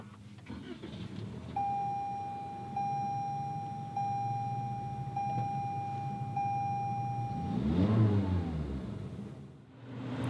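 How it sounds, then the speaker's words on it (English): Push-button start of a 2019 Toyota Corolla Hatchback SE: a steady chime beeps repeatedly, then the engine cranks and catches into a low, quiet idle. "So let's go ahead and start it up."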